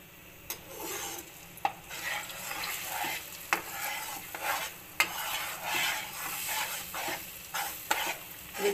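Eggs dropped into hot oil in a pan sizzle and crackle steadily while a utensil scrapes and stirs them, with occasional sharp taps against the pan.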